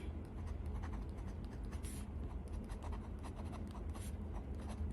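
A pen glides and scratches on paper with Private Reserve Midnight Blue Fast Dry ink, a faint, close, continuous writing sound with small rhythmic strokes.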